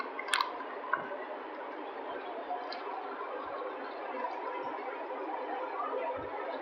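Curry goat cooks in an Instant Pot, giving a soft, steady sizzle and gentle bubbling with occasional small pops and ticks, fairly close and quiet.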